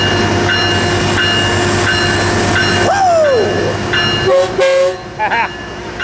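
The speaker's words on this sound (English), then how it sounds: "here's 912 and 898 leading this Metrolink out of here" Metrolink commuter train pulled by locomotives 912 and 898 departs, its engine drone steady throughout, with a loud horn blast sounding midway followed by further short horn notes.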